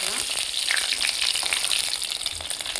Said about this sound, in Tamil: கடுகு வெந்தயம் சோம்பு போட்டாச்சு.